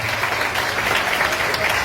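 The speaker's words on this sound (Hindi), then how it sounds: "एक जोरदार ताली इनके लिए जरूर होगी" Audience applause at a career-focused gathering, a dense, loud burst of clapping from a crowd, continuous and close throughout, without speech over it.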